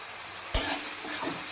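Prawns and tomatoes with turmeric and salt are stirred together in a pan, giving a low sizzle with a sharp scrape of the spoon near the start and soft stirring clatter after.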